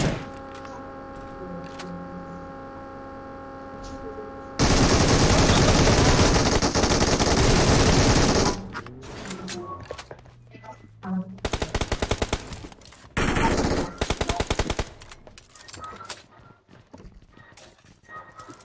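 Bursts of gunfire from the battle royale game BGMI, with loud sustained volleys and separate rapid bursts in the foreground, set against a tonal game soundtrack.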